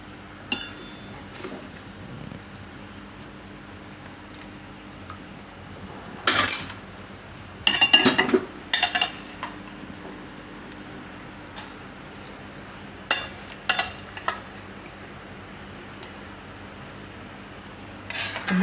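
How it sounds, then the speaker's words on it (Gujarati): Boiled corn being added to a pot for a tomato beet soup, with sharp metallic clinks of utensils against the pot in scattered clusters over quiet background hum. "અને આ મકાઈ છે એને આપણે આની અંદર નાખી દેવું."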